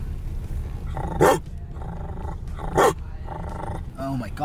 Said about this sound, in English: This dog's aggressive.